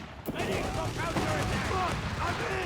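Battle gunfire in Company of Heroes 3 during a grenade assault, with dense overlapping rifle and machine-gun shots and blasts under a commentator's voice.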